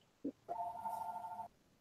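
A telephone rings with one short tone followed by a single sustained ring, faint and slightly distant in a quiet room.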